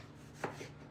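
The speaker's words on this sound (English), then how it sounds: "then we're gonna cut a cucumber" A knife slices through a cucumber with a single soft, quick chop, faint and close, in an otherwise quiet kitchen.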